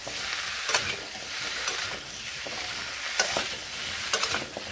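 Malabar spinach and pumpkin fry in a pan with salt and turmeric, giving a steady, close sizzle broken by a few sharp scraping stirs.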